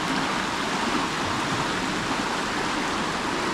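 Flood-swollen creek beside a campground after heavy rain, a steady, dense roar of rushing water that fills the whole clip without letup, close and loud.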